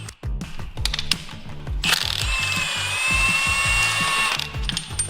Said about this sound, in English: in order to get our new clutch and flywheel fitted, we firstly got to remove the gearbox.